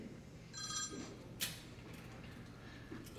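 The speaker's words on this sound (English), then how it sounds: "the dreaded cell phone symphony returns to our crucible of learning" Cell phones ring during a high school class in a stage production of High School Musical, with faint electronic ringtones and a sharp click over quiet room ambience, all fairly soft and distant.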